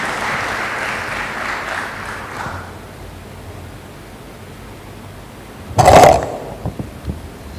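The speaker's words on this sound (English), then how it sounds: "Audience, please give a big applause to Mr. Oscar." An audience applauds at a school assembly welcoming the head of school to the stage: steady broadband clapping for a couple of seconds that fades out, then quiet with a short loud burst of noise near the end.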